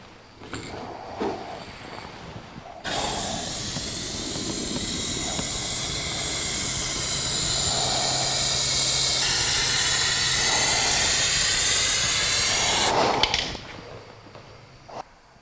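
A spray gun hisses continuously as clear coat goes onto the undercarriage of a 1982 Jeep CJ7 tub, loud and close for about ten seconds, its pitch brightening partway through, between quieter stretches of room noise.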